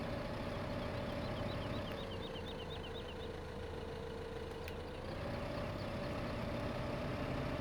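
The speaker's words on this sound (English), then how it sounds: "It's kind of a neat little tractor for your farm with tracks on it." A tracked tractor in Farming Simulator 2015 idles with a steady, continuous engine drone and a constant low hum. It runs alone at moderate level, dipping slightly midway before returning.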